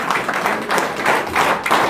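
A crowd at a political gathering in Jammu and Kashmir claps for Karamat Malik, a dense, steady patter of many hands that swells in soft waves for a couple of seconds.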